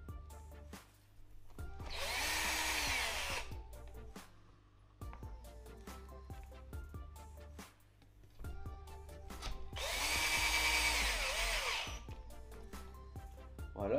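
Power screwdriver driving screws into the differential case of a Kraton RC car, two loud sustained whirring bursts, each about three seconds, separated by quieter pauses with low background hum.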